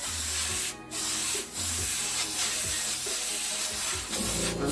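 Airbrush spraying black paint to outline a stencil on a crop top t-shirt, a close steady hiss in short bursts with brief pauses between passes.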